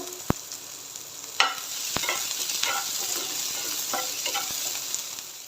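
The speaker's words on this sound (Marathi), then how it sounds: "आता ह्याच्यामध्ये एक बारीक चिरलेला कांदा ॲड करणार आहे आणि कांद्याला थोडासा लालसर कलर येऊ द्यायचा इथे" Finely chopped onion fries in a pan, cooking until it turns reddish, with a steady close sizzle and occasional sharp taps and scrapes of stirring throughout.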